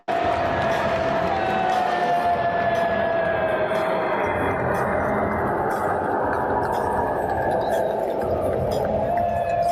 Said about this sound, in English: here's another video of him clearly getting majority booed. And of course, there are some cheers in here